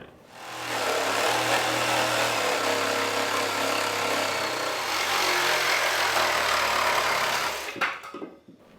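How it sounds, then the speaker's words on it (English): A jigsaw cuts through cedar wood for a garden potting bench, its loud, steady buzzing rasp running continuously for about seven seconds before stopping abruptly, followed by a few clunks. "I'm going to cut half of this with the jigsaw, and then I'm going to turn it around, cut the other half"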